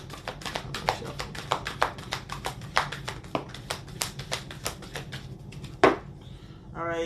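Tarot cards are shuffled by hand in a rapid run of close, crisp slapping taps at an uneven rhythm, ending with a short louder snap and a brief rustle.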